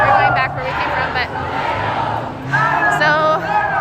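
Large crowd at a candlelight vigil march fills the air with a loud, continuous murmur of many voices and shouts, with a nearby speaker talking over the hubbub.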